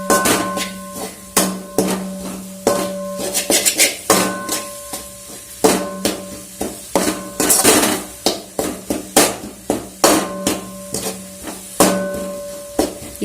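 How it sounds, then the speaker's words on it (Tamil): A metal spoon clatters and scrapes against a pan as spices and coriander powder are sautéed for crab soup, repeated sharp clinks in an uneven rhythm over a low sizzle. "நல்லா வதக்கிக்குங்க."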